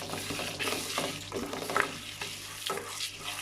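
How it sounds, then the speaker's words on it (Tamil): Lentils dry-roasting in a pan over medium heat, stirred steadily with a spoon, giving a close, continuous scraping rustle with soft repeated strokes and no talking. "இது மிதமான சூட்டில் வச்சு ஒரு 5 நிமிஷம் இதை இப்படி வறுத்து எடுக்கணுங்க."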